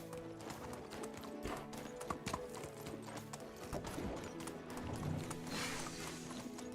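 Horse hooves clip-clop at a steady walking rhythm while riding through the medieval countryside in Medieval Dynasty, continuing across the stretch with game music and ambience underneath.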